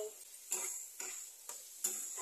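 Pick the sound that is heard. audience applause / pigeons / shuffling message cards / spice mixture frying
spice mixture frying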